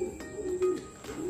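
Soft, low cooing from racing pigeons repeats in short phrases against a faint background hum.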